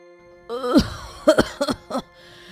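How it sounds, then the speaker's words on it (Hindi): Several hacking coughs, close and loud, come in quick succession, each one short and rasping. "बहुत तेज खांसी हो रही है"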